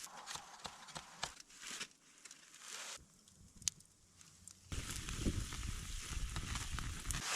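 A lamb shank sears over an outdoor fire, heard as faint crackles and taps that give way to a steady, louder sizzling hiss in the last few seconds.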